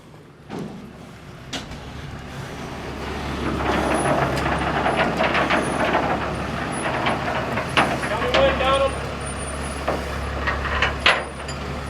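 A truck engine rumbles low and steady as the vehicle drives out from under a strapped load in Wichita, with a few sharp clanks and air-brake hisses, and people talking nearby.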